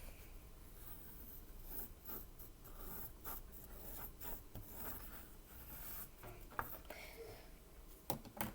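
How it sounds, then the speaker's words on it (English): A pencil traces around a hand on orange paper, faint close scratching strokes in short irregular bursts with occasional soft taps. "you're gonna trace your hand again"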